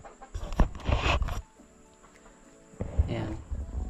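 Chickens clucking in a small DIY coop for five RTL laying hens, a few close, scattered clucks and calls in short bursts with a quiet pause between them.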